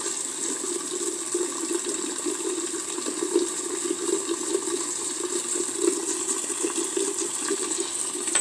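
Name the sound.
pouring liquid into vacuum filtration funnel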